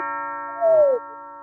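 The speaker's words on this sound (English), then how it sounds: "Oh, I hear a doorbell." A doorbell chimes once, a clear sustained ring with a brief sliding tone, heard alone in a quiet room.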